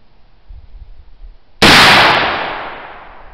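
A single sharp black powder gunshot cracks loudly after a quiet lull, its boom decaying over about a second and a half.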